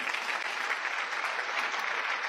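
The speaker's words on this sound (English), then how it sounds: "No time for clapping, guys." A late-night show studio audience applauds steadily at a moderate distance, with even, continuous clapping and no talking over it.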